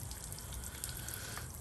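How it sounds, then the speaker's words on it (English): Water streaming steadily from the telltale of a Johnson/Evinrude outboard motor after a lower unit replacement, a continuous splashing patter over low engine rumble, fairly close and even throughout. "the water's pumping out very good"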